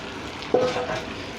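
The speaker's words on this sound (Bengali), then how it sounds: "এই যে রান্না মুরগাটা আমি ঢেলে দিতেছি" Cooked chicken poured onto biryani rice in a pot, giving a brief soft wet thud and a short sizzle near the middle of a quiet moment, close by, with no voices.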